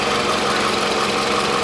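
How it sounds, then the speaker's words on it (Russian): A 2003 Toyota Harrier with a 2.4-litre engine idles steadily and close up after a throttle body cleaning, giving a constant even hum with a faint rhythmic knock and no voices. "Двигатель вот работает мягенько"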